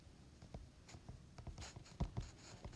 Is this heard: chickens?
no